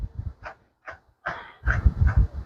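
Cavalier King Charles spaniel on a groomer's table giving short whimpers and soft yips in a few brief bursts, close and fairly quiet, with pauses between.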